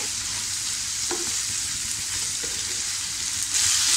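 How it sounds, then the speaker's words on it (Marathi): Onions and tomatoes, two of each, cook down in a pan as a strong, steady sizzle with a few stirring scrapes. The hiss swells louder near the end, close-up and without speech. "टोमॅटो हा छान एकदम स्मॅश होईपर्यंत शिजवून घ्यायचा आतमध्ये।"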